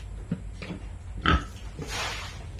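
Several short pig grunts and snorts come in bursts over a low rumble, with a broader rustling noise toward the end.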